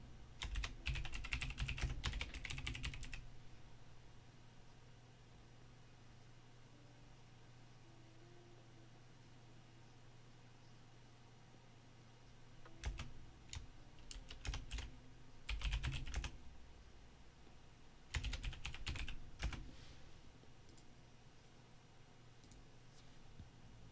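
Computer keyboard typing in a quiet room, with dense bursts of rapid key clicks at the start and again in the second half, separated by long near-silent pauses; close and fairly faint, no talking.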